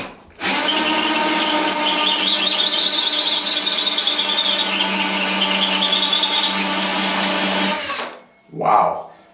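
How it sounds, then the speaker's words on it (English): A power drill whines at a high, steady pitch for about eight seconds as its bit bores into ceiling drywall, then cuts off, followed by a brief short burst. "put my drill bit on the center of that mark there"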